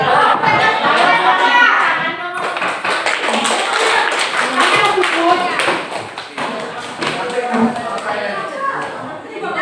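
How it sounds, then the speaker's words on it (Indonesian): Pupils in a classroom clapping in a counted exercise, clustered bursts of hand claps and taps mixed with children's chatter and a teacher's voice throughout. "Tepuk tangan 1 kali. Tepuk 3 kali."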